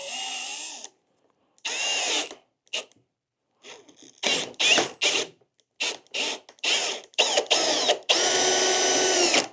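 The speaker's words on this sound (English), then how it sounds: "now I can go ahead and drill these holes for 1/2 inch and put the same dowels in that I used a minute ago" A power drill with a brad point bit bores half-inch dowel holes in a wooden barn door, running in short bursts of whirring separated by silent gaps, ending with a longer continuous run.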